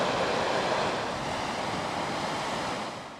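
River water in Glen Orchy rushes steadily downstream toward falls, a dense broadband roar running without a break and easing slightly at the end; no voices.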